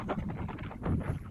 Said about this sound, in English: you can hear me, it's very windy